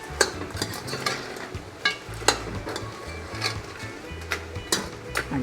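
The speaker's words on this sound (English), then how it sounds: "So you give it a stir again." A spoon scrapes and knocks around a pot of Tobago-style curry crab as it cooks down, irregular clanks and stirring strokes over a low sizzle, close by.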